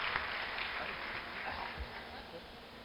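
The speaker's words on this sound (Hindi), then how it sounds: "आपकी एक बार जोरदार तालियों से आमंत्रित करें" Audience applause at a Hindi kavi sammelan in a large pavilion at a Kumbh Mela camp in Ujjain, welcoming a poet to the stage: dense, steady clapping from a crowd held for the full three seconds at moderate loudness.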